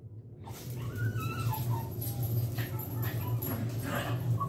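A dog whines and whimpers with high, wavering cries while wanting to go outside, close by over a low background hum and faint shuffling.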